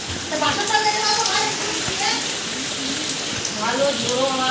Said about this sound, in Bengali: ভালো জোরো হওয়ার সাথে বৃষ্টিটা হচ্ছে।